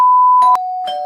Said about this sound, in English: I'm coming, stop ringing the bell.